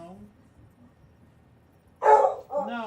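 Penny, a pet dog indoors at home, lets out a loud, close bark that draws into a short howl, then a second drawn-out yowl, after a moment of quiet room noise.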